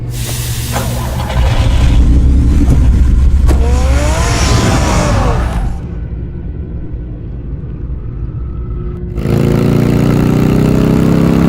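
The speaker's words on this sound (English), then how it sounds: "Get the car ready, Alfred." Car engine in the Batman: The Telltale Series video game, revving loudly with a rising whine for several seconds, dropping to a steadier idle-like drone, then surging again near the end; no one speaks.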